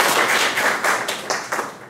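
Audience applause for a conference speaker, a short burst of dense clapping from a crowd, loud at first and then tapering off within two seconds.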